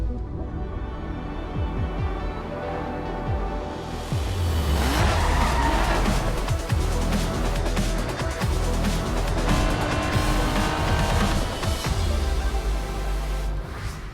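A 2017 Alfa Romeo Giulia Quadrifoglio in the racing game Racing Master roars and revs hard, engine note rising and falling through gear changes with squealing, skidding tires, loud and continuous with no talk.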